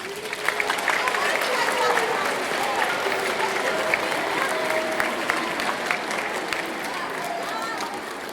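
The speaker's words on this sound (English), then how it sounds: "Give yourselves a round of applause." Students and families at a middle school academic awards ceremony clap in a long, steady round of applause, a dense even patter with occasional voices mixed in.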